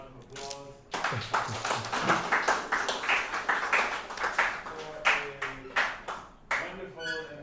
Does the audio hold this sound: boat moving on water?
no